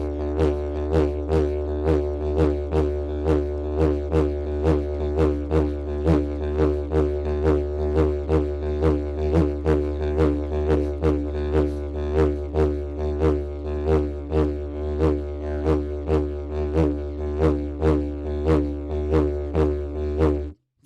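A didgeridoo drones steadily while the player pulses a breath-driven 3-5 rhythm block, grouping accents in threes and fives, with sharp rhythmic peaks repeating evenly throughout, loud and close.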